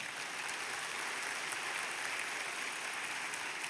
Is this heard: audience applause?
yes